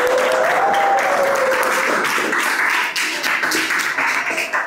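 A class of students claps together during a school lesson, a loud, dense burst of applause that carries on steadily for several seconds before thinning slightly toward the end.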